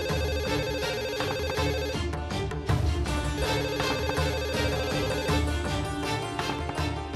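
A telephone rings insistently with a bright, repeating electronic tone, loud and continuous throughout, with some muffled background noise.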